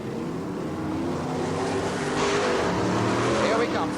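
BriSCA F1 stock cars racing in 1987 on a slippery track, a continuous roar of engines that swells as a car comes off a turn, with a commentator talking over it.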